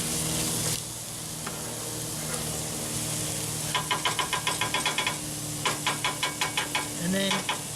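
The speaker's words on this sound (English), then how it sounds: "don't forget to stir, because remember, we want to get that nice pork flavor action in there" Pork meat sauce frying in a pan over an off-grid cooking fire, a steady sizzle with bursts of rhythmic scraping and knocking as a utensil stirs against the pan, in short repeated strokes.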